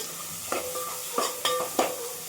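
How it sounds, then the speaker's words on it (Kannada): Tomatoes frying in oil in a pan for sambar, with a steady sizzle and several short scraping stirs of a spoon against the pan, close and alone. "ಟೊಮ್ಯಾಟೊ ಎಲ್ಲ ಫುಲ್ಲು ನ್ಯಾಶ್ ಆಗೋವರೆಗೂ ಫ್ರೈ ಮಾಡ್ಕೋಬೇಕು"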